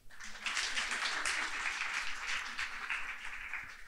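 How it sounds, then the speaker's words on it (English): Audience applause for a student panelist at a finance panel event, a sustained wash of clapping from a crowd at moderate loudness, starting abruptly and holding steady. "let's give it a big applause for Marin Bolanča"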